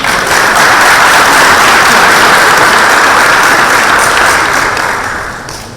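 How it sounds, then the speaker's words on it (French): A large audience applauds at a customs opening ceremony, dense steady clapping filling the hall loudly for several seconds before tapering off at the end, with no voices over it. "Je vais l'applaudir."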